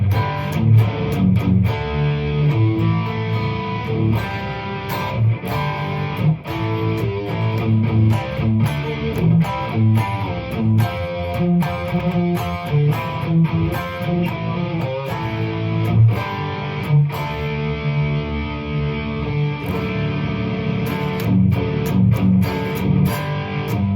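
Crunchy distorted electric guitar rhythm through an Atomic Amplifirebox 2, played loud and steady with chugging chords and sharp palm-muted stops throughout, no talking.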